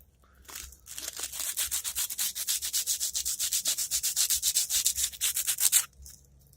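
A Hi-Point C9 pistol is sanded by hand in quick, rhythmic back-and-forth strokes, making a close rasping scrape that runs for several seconds before stopping.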